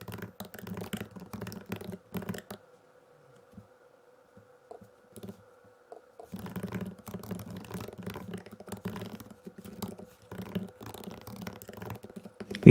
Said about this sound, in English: although you can check my typing speed